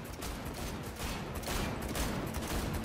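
Gunfire in the video game Cyberpunk 2077: a dense, continuous rattle of rapid shots at steady moderate loudness for about three seconds, with no talking.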